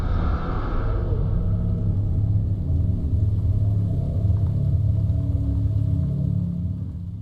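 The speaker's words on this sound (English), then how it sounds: "A search helicopter powers through the mist" A search helicopter pushes through mist over a fog-shrouded peak, a loud, continuous low rumble that holds steady and eases slightly at the end, with no voices.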